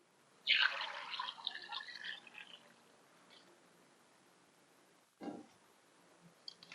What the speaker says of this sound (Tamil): இந்த மாங்காயை நம்ம நல்லா அலம்பிக்கணும் அழுக்கு இல்லாமல் அலம்பிக்கணும்